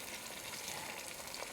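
Pieces of protein fry in a pan with a steady, dense sizzle and crackle that holds even throughout, fairly soft and heard on its own.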